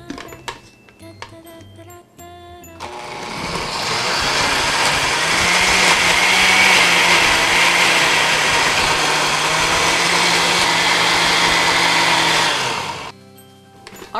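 A blender roars at high speed for about ten seconds mixing banana walnut pancake batter, starting and stopping abruptly, with faint background noise before and after.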